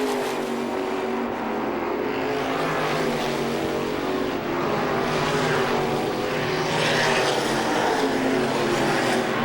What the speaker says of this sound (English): Riley enjoys a comfortable full straightaway lead on second place car Joey Scanlon.